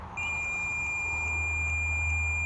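A multimeter set to continuity tests a switch on a Honda ATC 185s, producing a steady high-pitched tone that holds unbroken throughout over a low background hum.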